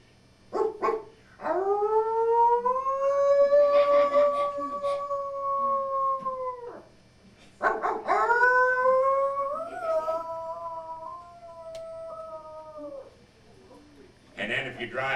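A voice imitates wild dogs howling in two long, wavering, rising-and-falling howls, each several seconds long, loud and close, with a short yip at the start and a breathy burst at the end.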